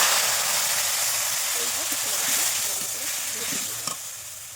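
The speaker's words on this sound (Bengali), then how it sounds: "তেলে যতক্ষণ না হবে ততক্ষণ ভালো করে নাড়াতে থাকবে আর জাল দিতে থাকবে" Turmeric- and salt-coated potatoes are stirred in hot oil, giving a continuous close sizzle with scraping stir strokes, while a person talks over it.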